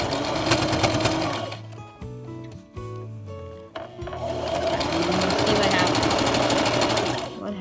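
A sewing machine stitching a homemade clothespin bag, running in fast rhythmic bursts that pause briefly midway and resume steadily, with a person speaking alongside.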